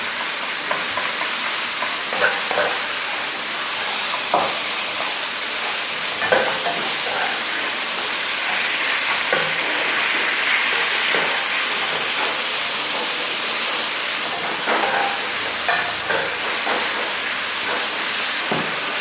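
Sliced pork belly stir-fries in a hot pan, a loud, continuous sizzle and hiss with scattered scraping and stirring clicks as it is tossed.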